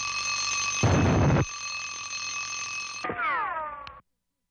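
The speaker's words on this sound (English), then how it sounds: "just as the king was climbing up to check the princess, the alarm went off." An alarm clock rings loudly in a continuous bell tone, with a burst of brighter rattling noise partway through, then winds down with a falling, warbling tone and stops abruptly, leaving silence.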